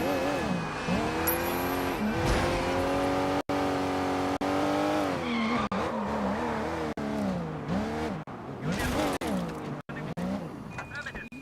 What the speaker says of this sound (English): We just stole a cop car and we're doing a cop job.